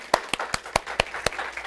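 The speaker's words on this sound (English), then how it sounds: "can we just give Reverend Laura a round of applause?" A few sparse, distinct hand claps, about six sharp claps in a loose rhythm, applaud a reverend at a Sunday spiritual service. The clapping stands alone, with faint background murmur.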